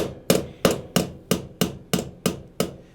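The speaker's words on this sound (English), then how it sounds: "Take your hammer, gently" A hammer taps down the rivets of a harmonica reed plate, eight crisp, evenly spaced metallic strikes close up with short decays and no talk.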